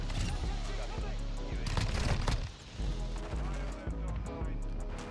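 Shotgun blasts in Call of Duty MW2 multiplayer, several loud booming shots at irregular intervals amid other gunfire and game noise, with a voice talking over parts of it.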